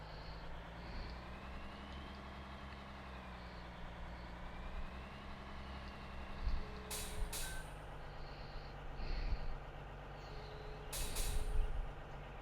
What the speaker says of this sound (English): Must have air brakes on it or something.